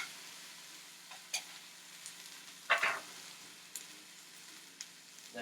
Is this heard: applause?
no